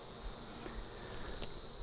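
Honeybees drone steadily during a hive brood inspection, a faint, continuous buzzing hum with a few soft knocks, no talk over it.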